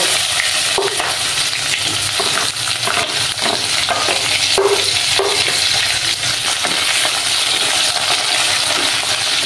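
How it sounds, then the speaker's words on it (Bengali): Chopped onions hit hot oil already seasoned with bay leaves, whole cumin, cinnamon and cracked cardamom for a Bengali fish-head curry, giving a steady close sizzle and fry with occasional utensil clinks and stirring throughout. "এবার আমি পেঁয়াজ কুচিগুলো দিয়ে দিব।"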